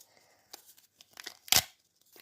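Packaging from a surprise package is torn open by hand: scattered crinkles and small rips build to one loud, sharp tear, followed by faint rustling, close and otherwise quiet.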